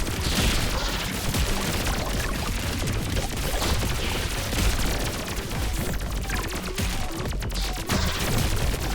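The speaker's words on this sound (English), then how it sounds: "enemies shoot really fast in this room" Enemies in the Pathogenic video game fire rapidly and without pause, a dense, loud barrage of shots with occasional booms running the full length.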